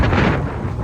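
Strong gusty wind blows across an open farm on a clear spring day, a loud, steady rumbling roar that buffets the microphone throughout, alone with no voices.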